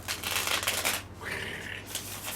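Cards from the Cthulhu Gloom card game being shuffled, a steady close riffling rustle with a brief pause partway through, with no talking.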